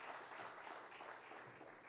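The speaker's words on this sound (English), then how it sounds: "Please, round of applause." Audience applause at a business leadership event, a soft, fairly distant patter of clapping that holds evenly for about two seconds.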